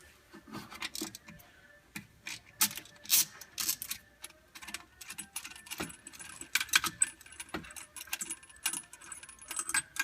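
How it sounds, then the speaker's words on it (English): Metallic clinks and ratchety clicks come from loosening and pulling the bolts that hold the drive and driven clutches on a Yanmar diesel Polaris Ranger, arriving as quick irregular bursts of close, moderately loud taps with no talking. "we can loosen and remove the bolts that hold both the drive and driven clutches on"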